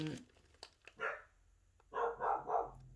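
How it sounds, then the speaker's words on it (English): A dog barks indoors in a room where someone is reviewing scented wax melts: one muffled bark, then three quick barks in a row, fairly faint, with a brief voice near the start. "Sorry, the dog is..."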